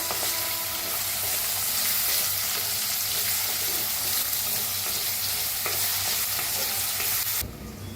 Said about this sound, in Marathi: कांदा असा छान भाजून घेऊया